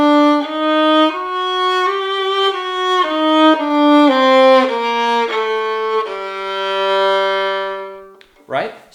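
A violin bows a harmonic minor scale using the fourth finger instead of an open string, steady sustained notes rising and falling in a clear close line, ending with a brief soft noise.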